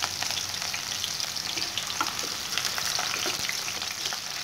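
Two large chopped onions fry in hot oil with a steady, close sizzle and soft crackles throughout, with no talking.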